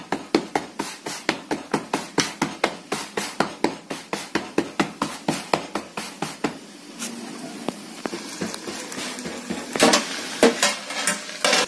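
A millet and sesame bhakri flatbread cooking on a griddle, with a steady run of sharp, regular taps and pats for about seven seconds, then softer scraping and light sizzling with a few louder knocks near the end.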